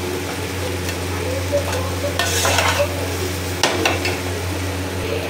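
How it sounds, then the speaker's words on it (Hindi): Rice stirred and fried over a high flame for fried rice, a steady loud sizzle with bursts of scraping as the spatula turns it, no talking. "राइस डाल के अच्छे से हाई फ्लेम पे जस्ट मिक्स करेंगे, मिक्स करेंगे।"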